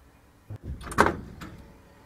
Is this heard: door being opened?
yes